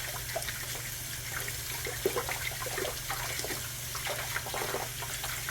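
Tap water runs steadily into a kitchen sink while hands are washed, a soft continuous splashing and trickling at moderate distance with small irregular splashes and no talk.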